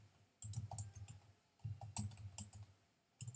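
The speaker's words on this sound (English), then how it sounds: "I'm having a hard time typing" Bursts of quick clicking keystrokes on a computer keyboard, three short runs of typing separated by brief pauses, close and fairly quiet.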